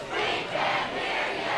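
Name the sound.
Andover football crowd chanting at Exeter side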